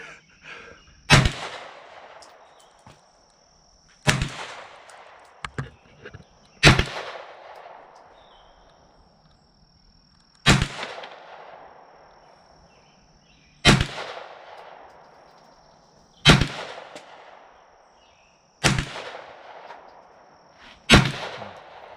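Single rifle shots from a Palmetto State Armory gun fired outdoors, eight loud sharp reports spaced a few seconds apart, each with a rolling echo tail.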